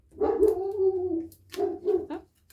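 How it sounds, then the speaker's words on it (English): A dog barking just outside a door, a few close, loud woofs with a drawn-out whining bark first, then two quicker barks after a brief pause, with no talking. "that would be my dog right outside the door, deciding to bark right towards the end of the video"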